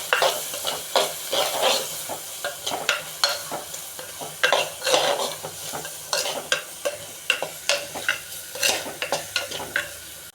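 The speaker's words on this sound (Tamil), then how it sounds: "இதெல்லாம் நல்லா வதங்கி எண்ணெய் பிரிஞ்சு வருது." Onions with chili powder, turmeric and other spices sautéing in oil in a pan, with a steady sizzle under repeated scraping stirs of a spoon, loud and close throughout with no talking.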